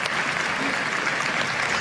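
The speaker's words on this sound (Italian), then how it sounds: "L'applauso è scrosciante al termine di Casta Diva" Thunderous opera-house ovation after the aria Casta Diva in Bellini's Norma at a season-opening performance, dense clapping sustained steadily from start to finish.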